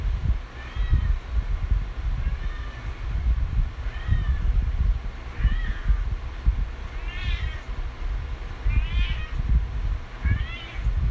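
A cat meows repeatedly, about seven short rising-and-falling calls spaced a second or two apart, over low rumbling handling noise close by.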